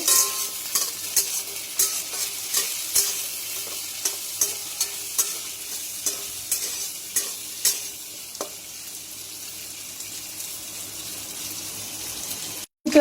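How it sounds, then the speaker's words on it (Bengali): Potatoes frying in hot oil with whole cumin and green chillies, giving a bright steady sizzle. Regular clanking stirs recur near the start and fade out, and the sizzle carries on alone to the end. "এবার আলুটা দিয়ে দিলাম, ভেজে নেব।"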